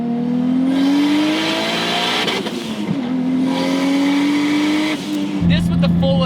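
A 500 hp BMW E30 wagon with a 1JZ engine, full exhaust and Apexi muffler drones steadily and fairly subdued from inside the cabin, with a gear change near the end and someone talking over it.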